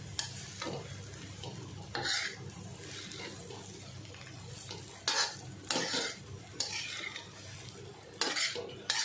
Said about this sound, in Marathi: आता झाकण नाही ठेवायचं आता फक्त असं जरा परतून घेते